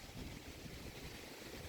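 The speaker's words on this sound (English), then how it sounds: "It is very windy." Strong wind before a storm rushes across a garden in a steady, faint, broadband roar buffeting the microphone, with no other sounds standing out.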